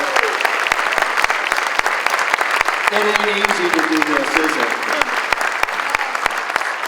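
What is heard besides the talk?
audience applause for Jeff, Tanya and Aaliyah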